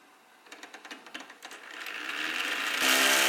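A small brushless motor built from Lego parts, geared down and running at low speed on a 9-volt, low-current supply, ticks with quick regular clicks before rising into a steady, building whir that grows louder and brighter toward the end.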